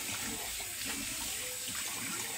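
Running tap water splashes steadily at a sink as someone rinses alum off their face after a wet shave, a continuous close wash of water with no talking.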